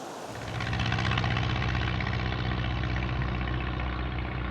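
A low aircraft passes over a river valley, its steady droning engine and propeller hum rising after the first half second and holding loud and continuous throughout, with no voices.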